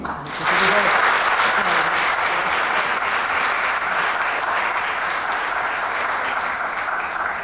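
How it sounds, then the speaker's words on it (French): Sustained audience applause at an international arts awards ceremony, breaking out after a brief quiet moment and holding steady and loud as a dense wash of many hands clapping. "Je vous demande de les applaudir."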